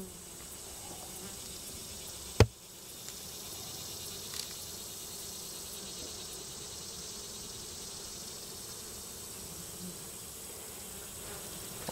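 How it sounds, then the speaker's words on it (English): Continuous low buzzing of many honeybees at an opened hive, faint and steady, with one sharp knock early on. "Seeing a lot of bees."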